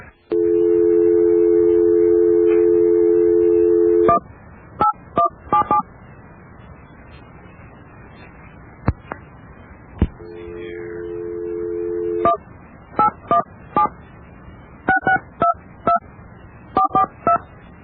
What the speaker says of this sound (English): Well, we've dialed the number.